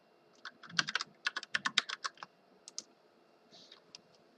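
Fingers tap out a password on a computer keyboard, a quick burst of close, crisp key clicks followed by a few scattered presses and a brief pause.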